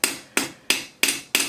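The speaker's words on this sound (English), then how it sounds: "Now when you do this, try to hammer evenly around it." A small hammer strikes a tiny wire ball five times to flatten it into an earring post head. The blows are sharp, bright metallic taps at an even, steady pace, close up and alone.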